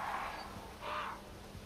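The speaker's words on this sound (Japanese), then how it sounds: "こんなでかいカラスだったの。" Two drawn-out caws from a large crow in the Resident Evil 4 VR video game, moderately loud and spaced apart over a faint background hum.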